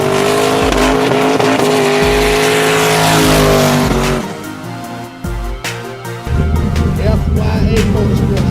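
A turbo race car engine roars close up from inside during a ride, loud and strained at first, then easing off and surging again, with brief tire squeal.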